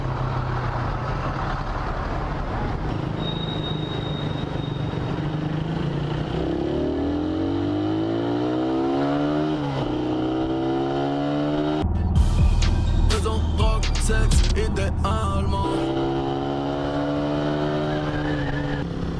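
A motorcycle rides at sunset, its engine droning steadily throughout with rising and falling pitch sweeps as it accelerates and shifts, plus a burst of rattling, clattering noise partway through.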